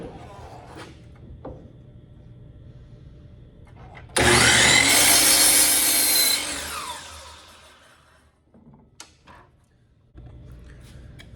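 Miter saw slicing through a wooden board in a woodworking shop, a loud whining cut lasting about two seconds that spins down and fades, set between quieter stretches of low room noise.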